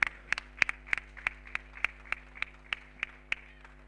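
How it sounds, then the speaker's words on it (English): Steady, evenly spaced hand claps at a cricket semi-final event, about three sharp claps per second, close and fairly quiet, with a low constant hum underneath. "A round of applause for KRR team"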